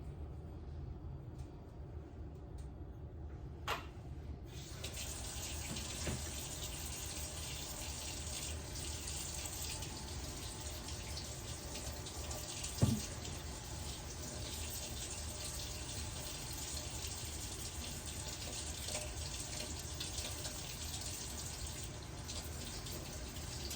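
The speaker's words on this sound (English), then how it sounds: "This is how I have to get up to our sink to wash my hands." Tap water runs steadily into a kitchen sink while hands are washed, a close, constant hiss and splash that starts a few seconds in and continues, with a small knock partway through.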